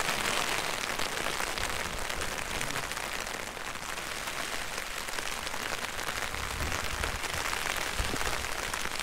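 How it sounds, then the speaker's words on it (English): Rain pattering steadily on a tent during a summit wild camp on Fan Gyhirych, a dense continuous patter of drops close overhead with no talking. "And I've just been woken up by rain."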